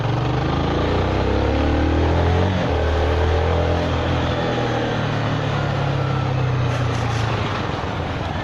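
A Zontes 310V motorcycle accelerating, giving a loud, continuous engine drone that rises in pitch and then holds steady through several seconds, heard close with heavy wind rush.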